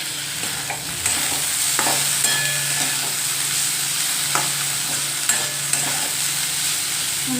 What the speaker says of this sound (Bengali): এখানে আমি লাউয়ের খোসা আর আলু ভাজা করছি।